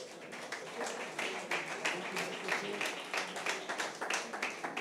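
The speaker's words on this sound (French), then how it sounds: "Vous pouvez l'applaudir." An indoor audience applauds an award winner at a ceremony for an excellence label: a dense, steady patter of many hands clapping for about five seconds at moderate volume.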